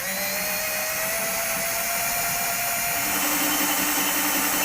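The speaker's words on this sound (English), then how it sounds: "I'll go ahead and take my 9/32 drill bit" A power drill fitted with a 9/32 bit bores a hole while a PowerStep Xtreme running board goes onto a vehicle. It gives a loud, continuous high whine that holds steady throughout, with a slight pitch change partway.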